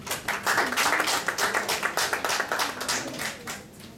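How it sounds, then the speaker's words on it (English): A Toastmasters club audience at an Infosys meeting in Hyderabad gives a hearty round of applause, with many hands clapping in a brisk, continuous patter that stays fairly even before thinning out at the end. "please have a big round of applause for Toastmaster Chandra"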